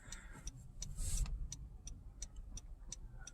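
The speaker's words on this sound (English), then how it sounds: "Cylinder 1 has a misfire." A 2014 Honda Accord engine idles with a misfire on cylinder 1, a steady low rumble broken by regular sharp ticking pulses, heard close with no voices.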